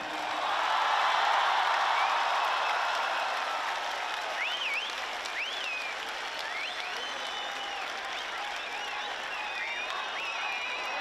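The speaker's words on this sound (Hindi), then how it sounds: "जरा हाथ उठाकर तालियों की गूंज में बताइए कि आपको इमरान खान से कितना प्यार है।" Large crowd at a PTI political rally in Karachi applauding in a dense, loud wash of clapping that slowly fades, with scattered whistles and shouts continuing over the tail.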